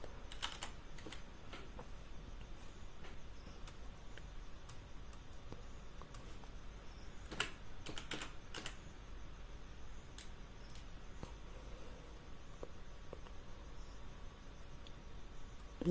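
Typing on a computer keyboard while setting up a freelance profile, heard as quiet, irregular key taps with a few brief sharper clusters over a steady low hiss, without speech.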